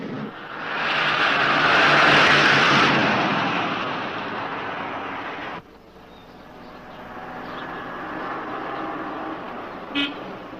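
A police patrol car pursues a truck along a fire road, with a loud roaring engine and rushing noise that swells and then fades after an abrupt cut, ending with a brief sharp sound.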